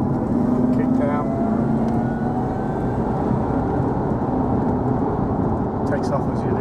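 Steady, dense engine and road roar inside a 2005 Jaguar XKR coupe with a supercharged 4.2 V8, pulling hard after a kick-down in sports gearbox mode, heard close from the cabin with no pause.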